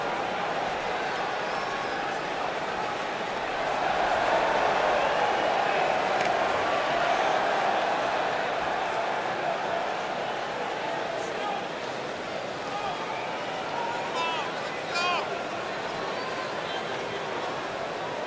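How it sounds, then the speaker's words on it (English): A steady arena crowd roars and cheers at a women's wrestling match, a dense wash of many voices holding at a fairly even loudness throughout with a slight swell early on. "it sounds to me like this crowd already picked the one who they want to win this match"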